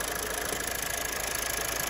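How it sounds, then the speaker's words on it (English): A Mazda 2.2 Skyactiv diesel engine idles at close range with its EGR valve in place, a loud, steady, even rumble that runs on without change or pauses. "So, the car is running now"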